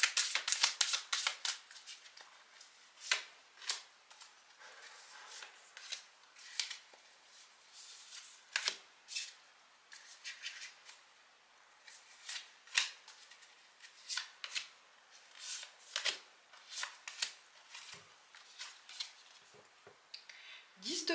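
Marseille tarot cards are shuffled in repeated quick riffling bursts with short pauses between them, close and fairly quiet.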